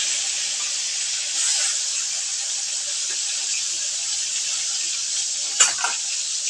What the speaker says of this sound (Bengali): এই তেলের মাঝে আমি মুখি এবং সয়াবিন একটু হালকা ভেজে নেব